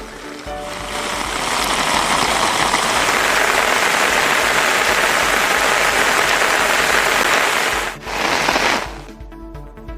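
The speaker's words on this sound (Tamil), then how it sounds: "திருவாரூர் மாவட்டத்தின் பல்வேறு பகுதிகளில் பரவலாக கனமழை பெய்தது" Heavy rain falls across the Tiruvarur district in Tamil Nadu, a dense, loud, continuous hiss of downpour that briefly dips near the end before easing to a lighter patter.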